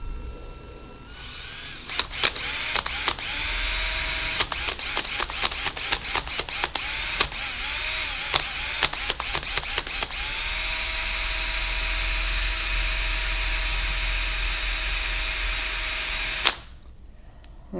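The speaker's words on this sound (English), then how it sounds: "I don't condone holding the drill while you do this," A handheld power drill bores through a used plastic part for a Honda XR50 motorbike, whining in repeated short bursts at first, then running continuously before stopping abruptly near the end.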